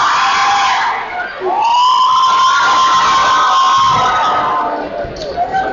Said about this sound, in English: Crowd getting into the game.